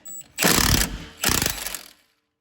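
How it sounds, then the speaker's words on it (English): A ratchet with an 18 mm socket on a 1/2 inch drive gives two bursts of rapid clicking, close and loud, each lasting about half a second with a short pause between them. "we got an 18 mil socket on a 1/2 inch"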